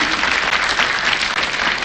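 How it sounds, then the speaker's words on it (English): Thick, continuous clapping from a large audience for brother Raymond Moi at the Moi family gathering at Kabarak, loud and close with individual sharp claps poking through the roar and no speech on top. "I think we need to clap for brother Raymond because he has held this family."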